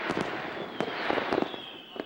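Fireworks go off in a quick string of sharp cracks and pops, with a thin whistling streak running through the bursts.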